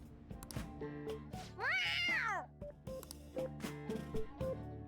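A cat meows once in Persona 5 Royal, a clear rising-and-falling mew over steady game music, with brief game sound effects around it.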